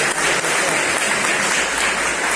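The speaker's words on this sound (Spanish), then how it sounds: "Así que le damos un aplauso y bienvenidos y bienvenidas a todos." Audience applause at a 2019 gender-perspective training session, welcoming a speaker and the founder of a women's house; dense, steady clapping fills the whole short stretch at full strength.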